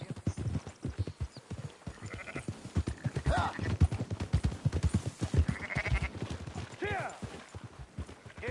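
Sheep bleat in Red Dead Redemption 2 amid steady clip-clop of hooves and moving livestock, with quavering calls rising here and there while a voice talks over the scene.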